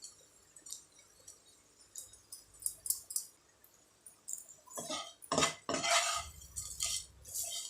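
A spoon scrapes and clinks against a metal pan while stirring prawn masala, with irregular strokes that grow louder and denser in the latter half, and no talking.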